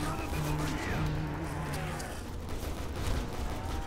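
Explosive gunfire and crashing blasts from an RPG fired into the ground in Call of Duty Zombies, Industrial Estate map, a dense, continuous barrage with tonal game sounds underneath.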